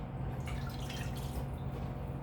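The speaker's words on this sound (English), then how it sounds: "2 cups hot water" Hot water is poured into a pot for Thai coconut soup, a faint, brief splashing and trickling against a low background rumble.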